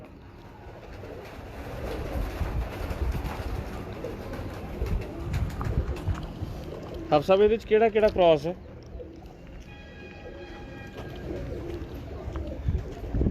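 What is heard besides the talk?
pigeons cooing on a rooftop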